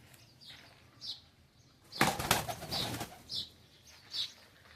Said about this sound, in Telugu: 5 పావురాలు లైన్గా అలా చూసారా, ఎలా లైన్గా ఉన్నాయో.